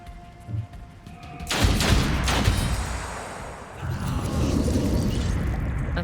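Gunfire in the turn-based video game Othercide rings out as a burst of loud, overlapping shots and booms, sharp reports layered over a rumbling game soundtrack, with a second surge of blasts later.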